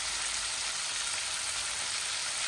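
Food frying in a pan makes a steady, even hiss of sizzling oil, close and constant with no breaks.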